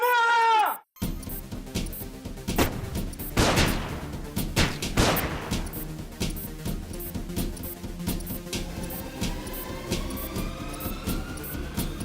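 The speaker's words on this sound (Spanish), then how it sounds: "Hubo una explosión" A grenade goes off with a sudden deep blast, followed by a spread of booming, rumbling bursts and a long ringing, whining tone that lingers as the commotion fades.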